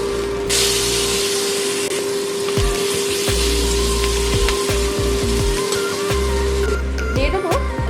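Green chillies dropped into hot oil with nigella seeds sizzle loudly in a pan for a Bengali fish curry, a bright continuous spitting hiss with a few sharp crackles and clinks.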